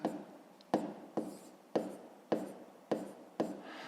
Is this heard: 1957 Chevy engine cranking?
no